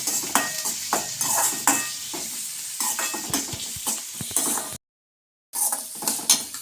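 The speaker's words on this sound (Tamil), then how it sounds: "வெங்காயம் கொஞ்சம் வதங்கட்டும்." Onions and curry leaves sautéing in a pan, with a bright sizzle and frequent scraping, clinking spatula strokes against the metal, close and busy; the sound drops out completely for a moment before resuming.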